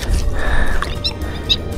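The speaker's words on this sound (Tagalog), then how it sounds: "Grabe itong ibon na to, nakakatakot yung tunog niya" A bird calls outdoors with a few short, high chirps, moderately close, against a background rumble of wind or handling noise.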